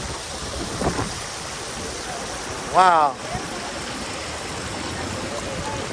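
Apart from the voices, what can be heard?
cooling water fountain on the High Line, New York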